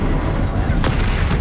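Stupefy spell cast in the video game Hogwarts Legacy, a dense booming blast over a steady rumbling background, with a sharp burst near the middle of the short stretch.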